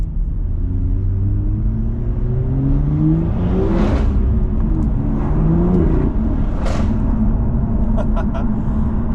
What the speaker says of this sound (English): That M140 is loud.